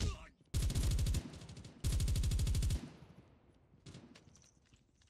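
Two loud, rapid bursts from an S36 bipod-mounted machine gun in Call of Duty Mobile, each about a second long, followed by quieter scattered shots and movement sounds.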